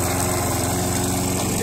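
A lawn mower runs at full throttle while cutting, its small engine giving a loud, steady, buzzing drone with fast pulsing, recorded close by.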